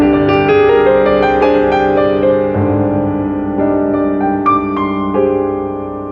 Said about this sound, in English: So here's the sound of the Aeolian mode.